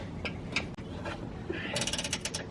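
A ratchet clicks as bolts are loosened to remove the bumper from a 2-door Range Rover Classic under restoration, short bursts of close pawl clicking with a rapid run of clicks near the end.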